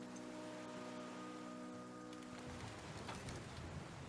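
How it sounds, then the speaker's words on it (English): Rain falling in the survival video game The Flame in the Flood, a steady soft hiss of drops that grows denser and louder toward the end, with no talk. "And it's raining."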